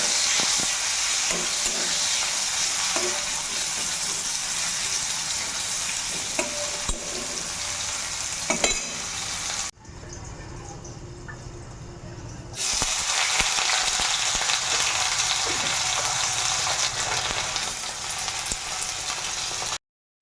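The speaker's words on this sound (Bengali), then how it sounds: "এখন আমি সবজির জন্য দেখো উচ্ছেটা ভাজতে বসিয়ে দিলাম" Bitter gourd fries in hot oil in a wok with a close, continuous sizzle and spatula scrapes and clicks; the sizzle drops to a softer hiss for a few seconds midway, then returns at full strength.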